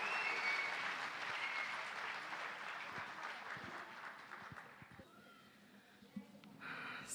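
Applause from an audience at a Yalda night poetry gathering, welcoming a woman poet to the stage. The clapping fills the first five seconds, then thins to scattered claps and a brief renewed burst near the end.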